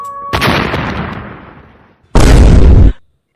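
A Diwali firecracker goes off with a loud blast that decays over a couple of seconds, followed by a second harsh, close burst that cuts off abruptly.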